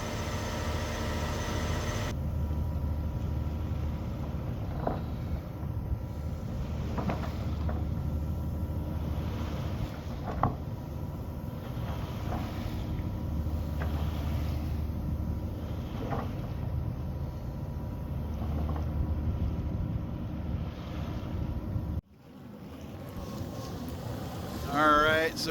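A sailboat motors along under engine power at a steady throttle, its constant low engine drone and hull-borne rumble filling the scene with faint wind noise, holding unchanged for a long stretch before a brief dip near the end.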